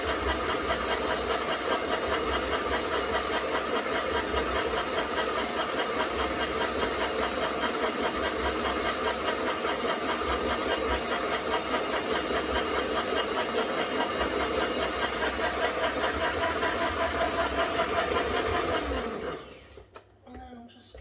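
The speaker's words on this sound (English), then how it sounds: "I don't know how well you can hear me over the mixer" An electric mixer beats egg, butter and sugar together for a Victoria sponge, a loud steady whirring drone with a rattling edge that runs continuously before cutting off abruptly near the end.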